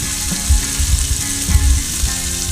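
Onions and peppers sauté in a pan with browned sausage, a loud continuous sizzle with soft bumps of stirring throughout, close and alone.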